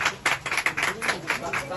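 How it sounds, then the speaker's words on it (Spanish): Applause from a crowd at a municipal land-handover ceremony for the improvement of Avenida El Ejército in Tarapoto, Peru, sounding as a short, uneven burst of claps with voices mixed underneath. "Aplausos, aplausos."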